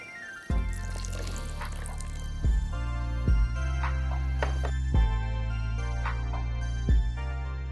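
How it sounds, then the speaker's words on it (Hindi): Water dribbling into ragi pancake batter in a bowl, a soft liquid trickle with a few distinct drips and splats, close and fairly quiet, set against a steady low background hum. "अब हम इसमें थोड़ा पानी बढ़ा लेते हैं।"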